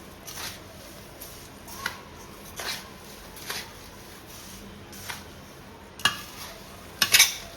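A spoon clinks and scrapes against a pot while a hot turmeric-spiced mixture is stirred at home, with light intermittent taps spaced a second or so apart and a sharper cluster of clatters near the end.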